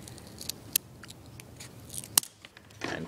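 Scissors snip a few times, sharp crisp clicks spaced apart against quiet background rustling, up close.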